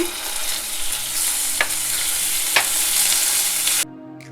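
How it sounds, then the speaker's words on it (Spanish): Chicken pieces fry in hot oil over lowered heat, a loud continuous crackling sizzle with a couple of sharp pops that cuts off abruptly at the end. "Cuando ya tenemos el aceite caliente, bajamos el fuego para evitar que se nos queme el pollo. Añadimos en primer lugar el pollo."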